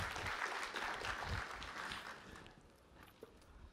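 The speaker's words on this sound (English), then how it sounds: "A round of applause." Audience applause greets a presenter taking the stage at a startup pitch competition semifinal, a steady wash of clapping from a mid-sized crowd that thins out and fades over a few seconds.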